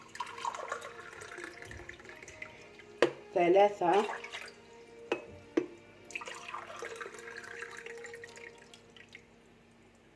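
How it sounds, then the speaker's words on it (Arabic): Glasses of cold water poured onto sugar to make syrup, with splashing and dripping in a few distinct bursts, close by, as a person talks throughout. "نحطو لهم 4 كيسان تاع الماء"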